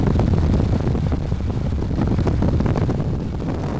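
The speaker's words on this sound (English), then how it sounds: "a researcher is testing a new helmet in an acoustic wind tunnel" A constant, dense rush of airflow in an acoustic wind tunnel, testing a helmet, roars loudly and evenly without pause, like powerful wind blasting past close by.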